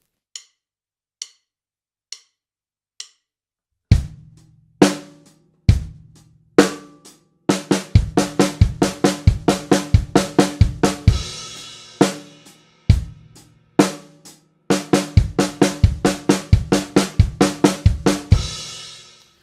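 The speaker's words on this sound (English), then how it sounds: "if I play right left kick 5 times with 1 extra right hand, all on the snare drum" A few sparse clicks lead into a snare drum and kick pattern, played as quick 16th-note fills of right, left and kick alternating with steadier groove bars, close and loud.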